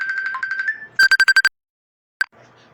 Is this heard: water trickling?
no